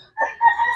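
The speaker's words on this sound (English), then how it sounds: "So some of our chickens is in the roost." Chickens settling in their roost give a brief burst of close clucking and a short crowing call, loud and alone, with no talk.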